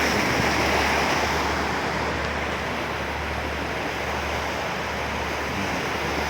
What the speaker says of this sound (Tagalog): Ito yung mga dagat na sabi ko sa inyo.